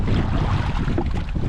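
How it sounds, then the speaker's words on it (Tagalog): Big waves wash and slosh around a small fishing boat at sea, a close, continuous rush of water mixed with gusting wind noise on the microphone. "Grabe ang alon. Nagsilakihan."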